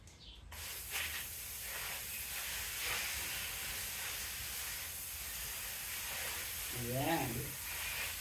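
Freshly picked borage leaves from a home garden are rinsed under running water, giving a steady, soft hiss of flowing water throughout, with a brief spoken word near the start.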